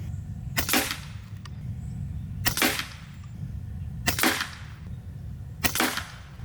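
Four sharp, loud shots from an FX Impact M4 PCP air rifle with a 700mm sniper barrel, evenly spaced about every one and a half seconds over a steady low background hum.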